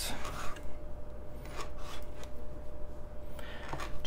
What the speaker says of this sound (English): now we're gonna cut up the ginger